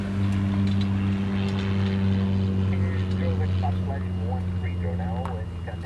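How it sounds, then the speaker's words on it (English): A Cessna Super Cargo Master propeller plane arriving at Honolulu from Molokai gives a steady, loud, droning engine hum with low harmonic tones that continues throughout, with some faint background voices. "It's a Cessna. It's either a Cargo Master or a Super Cargo Master."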